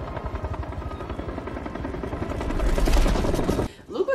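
Helicopter in the Percy Jackson movie, a dense rapid rotor chop thumping steadily and growing louder before cutting off abruptly, with other movie sound briefly following.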